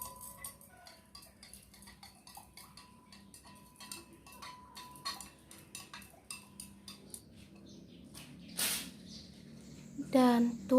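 Potassium hydroxide dissolved in 200 ml of water for homemade liquid soap from used cooking oil is stirred in a container, giving quick light clinks and ticks of a utensil against the sides, with a louder scrape near the end.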